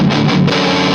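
Electric guitar played through a Mooer Black Secret distortion pedal on its vintage Rat setting, distortion near two o'clock, giving a loud, dense, saturated sustained tone that rings on steadily for the full second.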